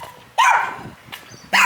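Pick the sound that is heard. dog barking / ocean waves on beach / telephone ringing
dog barking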